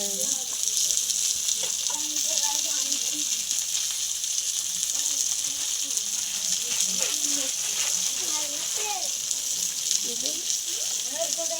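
Rohu fish frying in oil in a small kadai crackles with a loud, constant sizzle, while a voice talks faintly underneath.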